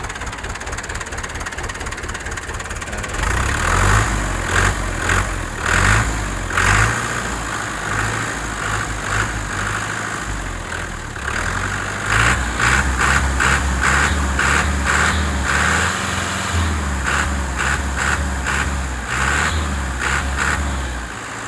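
A 2017-model tractor with its original engine runs close by, revved hard in repeated throttle bursts that rise and fall over a steady diesel rumble, with no talking.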